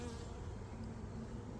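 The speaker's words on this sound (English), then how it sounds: "There's a lot of bees." A dense, steady buzz of many honeybees at an opened hive, a close and continuous drone with no breaks and no talking.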